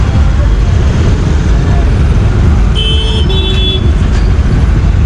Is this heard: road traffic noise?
yes